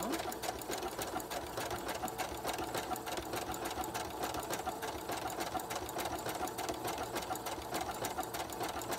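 A sewing machine stitches a quilt, running in a steady, continuous mechanical chatter at close range for the whole clip with no pauses.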